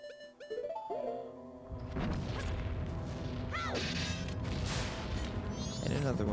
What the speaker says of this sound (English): Another one of those laser enemies exploded.